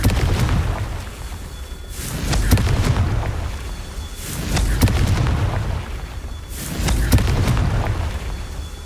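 Confringo fire spell blasts in Hogwarts Legacy land as three loud booming explosions spaced a few seconds apart, each with a rumbling decay and sharp crackling debris.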